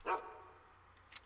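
A dog in the Fallout 3 video game gives a short, loud growling bark at the start, then fades to quiet game ambience with a faint sound near the end.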